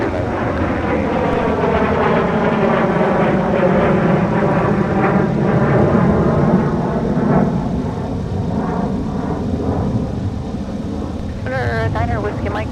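A heavy jet airliner roars at MSP airport, a loud sustained rumble that swells and slowly fades, with a voice briefly audible near the end.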